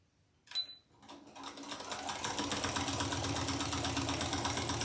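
A sewing machine runs a straight stitch with regular tension through a quilt sandwich. It starts after a couple of brief knocks and settles into a steady, rapid mechanical whir close by.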